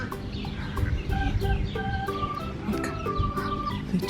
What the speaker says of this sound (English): There's actually a real chicken behind it.